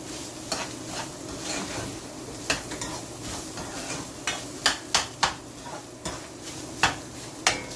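Minced meat cooks in a pan for baked penne pasta, a continuous sizzle broken by repeated sharp clinks and scrapes of a utensil against the pan, close and fairly loud.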